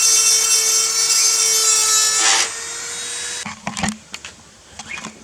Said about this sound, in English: Gonna hit it with the Dremel down here and grind it back a little bit.